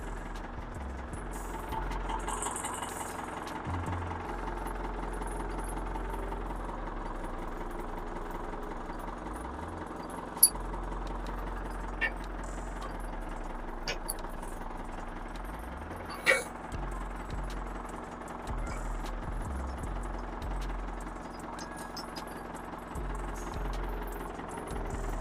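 An old tractor engine idles steadily for a long stretch, a low, even chugging rumble at close range broken by a few sharp clicks.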